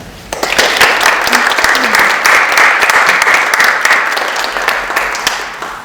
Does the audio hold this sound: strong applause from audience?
yes